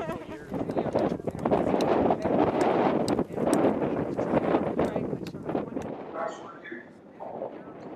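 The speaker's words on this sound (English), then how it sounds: "The wind's blowing like crazy, so I had to overdub this segment." Strong gusty wind blasting into the microphone outdoors, loud rumbling roar that surges and eases in waves before fading somewhat toward the end.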